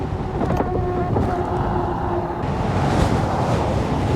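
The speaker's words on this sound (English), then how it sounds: "Windy, man." Wind buffets the microphone in a steady roaring rush while riding along outdoors in a Volvo EX30, with a faint engine hum underneath.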